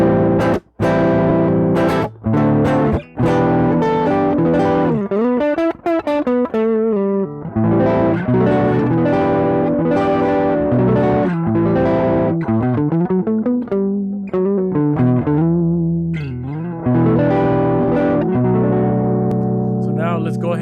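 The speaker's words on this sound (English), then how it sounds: "you start hearing more distortion, more overdrive" An electric guitar plays riffs and chords through a Belodyer overdrive pedal, the tone thick and gritty, loud and sustained with short pauses between phrases.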